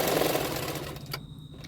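Sewing machine stitching fabric for a double katori blouse, a steady fast whirring run close by that stops abruptly near the end.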